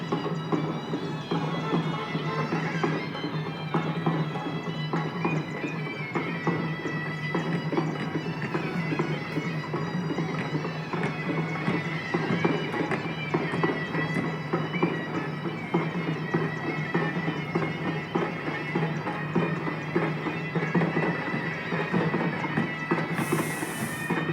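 Bullock cart on a road: steady clip-clop of hooves keeps an even, continuous rhythm over rumbling road noise for the whole stretch, nearby, with no voices.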